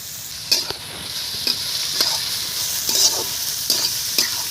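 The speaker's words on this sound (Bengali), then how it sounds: "গাজরটা আমি এখন ভেজে নেব।" Carrots fry with salt in hot oil in a heated pan for fried rice, a loud continuous sizzle punctuated by regular scraping stirs every second or so, close up with no speech.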